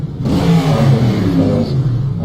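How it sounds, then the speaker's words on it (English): A Ford V8 racing car engine revs in the rFactor 2 racing game, a loud, sustained, raspy drone that holds steady with small rises and dips and has no talk over it. "I was revving my engine."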